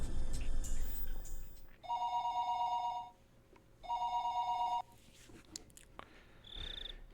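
Telephone ringing in the Higurashi visual novel: two long electronic ring bursts with a pause between them, set over steady cricket-like ambient chirping.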